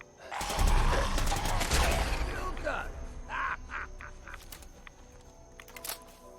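Gunfire in Fallout 4, a loud burst of rapid shots and mechanical rattling early on, fading into scattered sharper reports and clatter, with a voice speaking over part of it.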